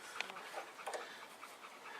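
A dog pants quickly and steadily nearby, soft breathy huffs repeating throughout at low volume, with no speech over it.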